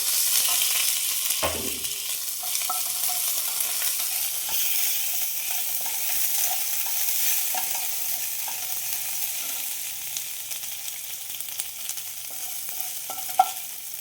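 Green chilies and garlic frying in a pan, a steady close sizzle with occasional stirring clinks and scrapes, no voices.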